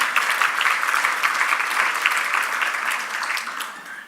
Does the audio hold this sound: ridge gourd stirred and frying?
no